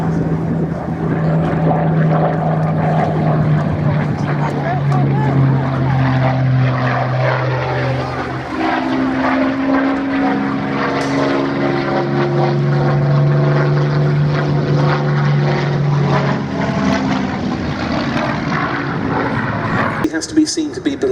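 A Spitfire with a Merlin 66 engine flies at an air show, its propeller drone rising and falling in pitch as it passes, under continuous commentary from a nearby voice.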